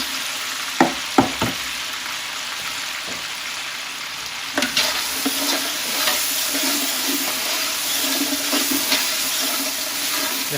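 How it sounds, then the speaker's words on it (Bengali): Ginger, garlic and whole spices such as clove, bay leaf, peppercorn, cardamom and cinnamon frying in oil for meat kabsa, a loud steady sizzle with a few sharp knocks and stirring scrapes, close up. "আদা রসুনটা একটু বাজা হইব"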